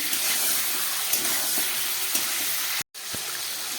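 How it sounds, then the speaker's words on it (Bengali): Chicken pieces seasoned with salt and garam masala fry in a pan of oil, giving a loud, continuous close sizzle with a brief drop-out near the end. "চিকেনটাকে আমি একটু ফ্রাই করে নিচ্ছি।"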